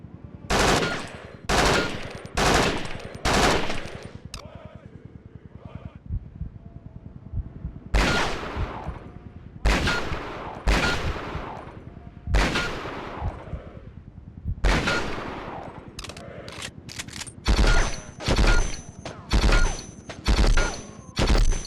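Bursts of automatic gunfire from soldiers' weapons at targets on a desert training range in the Conflict: Desert Storm 2 video game, loud rapid volleys repeating in clusters with short pauses between, no talk.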